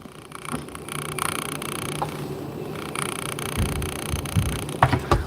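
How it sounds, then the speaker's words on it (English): A camera lens motor hunting for focus makes a soft, continuous purring whir under steady room noise, with faint clicks and small bumps near the end. "That is the sound of a lens that is trying to hunt focus"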